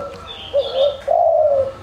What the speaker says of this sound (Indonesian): saya berbagi 3 macam suara burung tekukur ya